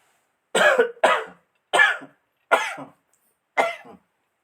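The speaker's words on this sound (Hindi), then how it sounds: "थोड़ा खांसी आ गया था" Five separate coughs from a lecturer, close and distinct, come in an uneven series with short silences between them.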